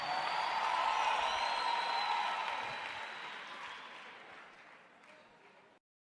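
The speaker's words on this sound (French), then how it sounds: "c'est un bon moment pour applaudir" A church congregation of nearly a thousand applauds together during a leadership teaching in Soweto, South Africa; the broad clapping starts loud and fades away over about six seconds before ending abruptly.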